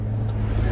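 A rare car's engine runs steadily while driving, a deep constant rumble heard close and loud from inside, with no other sounds over it.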